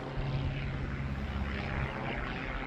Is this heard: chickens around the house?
no